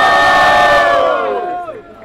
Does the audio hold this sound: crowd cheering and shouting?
yes